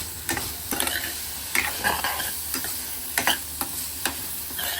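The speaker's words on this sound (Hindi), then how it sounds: "तो इसको अच्छे से जो है करारा सा भून लेते हैं।" Tikki filling seasoned with salt, coriander and turmeric frying in a pan, a low steady sizzle punctuated by repeated spatula scrapes and taps as it is stirred, close by.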